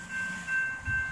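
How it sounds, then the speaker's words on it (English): A Metro-North train nearing a railroad crossing in Bethel, Connecticut: a loud, close, rolling rumble with a steady high ringing tone on top, heard without talk. "Here comes the big train."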